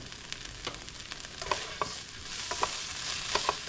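Garlic sizzles and crackles in a hot pan, a faint steady frying hiss broken by small sharp pops and occasional stirring clicks, with no voices.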